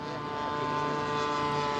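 A scale model aircraft's MCC full expansion engine runs steadily at a constant pitch, a loud continuous buzzing drone with a strong tonal whine, close by and without talk.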